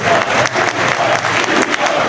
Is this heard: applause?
yes